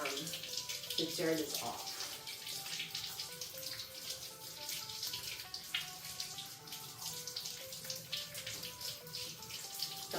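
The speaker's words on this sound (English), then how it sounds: "So you just turn on your water, no soap necessary" Tap water runs steadily into a sink while yams are rubbed clean by hand, a soft continuous splashing hiss under a speaking voice.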